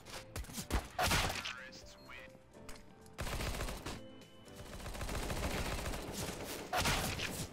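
Rapid gunfire bursts in Counter-Strike: Global Offensive, the free version, during a round against bots: loud, close volleys of shots with short gaps, rising again into sustained fire near the end.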